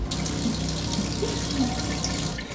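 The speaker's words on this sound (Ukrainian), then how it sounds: "Там є такий моторчик, який качає воду" A tap fed by an electric water pump runs steadily with a constant rushing flow of water, close and loud, with no voices, inside a trailer house in a forest.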